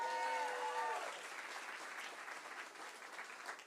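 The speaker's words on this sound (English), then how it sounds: "Give another round of applause" An audience claps in a steady burst of applause at a live midday event in Philadelphia celebrating America 250 plans, fairly faint and distant, with a brief tonal sound at the start before the clapping carries on alone.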